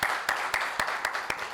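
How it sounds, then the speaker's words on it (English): Rhythmic hand clapping at a tech day event: about six evenly spaced, crisp claps over a steady diffuse wash, moderately loud, with no talking. "there needs to be a big round of applause for them"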